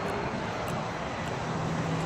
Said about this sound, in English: a lot of planes pass by